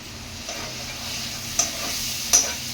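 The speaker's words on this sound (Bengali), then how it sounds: "সবগুলোকে দিয়ে ভালো করে মিশিয়ে নেবো" Egg chowmein being stirred in a pan after vinegar and soy sauce go in, with a soft, continuous sizzle close by and a few sharp scrapes of the utensil against the pan.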